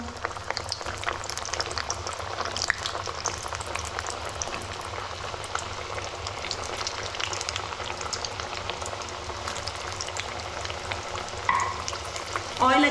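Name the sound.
potato wheels frying in hot oil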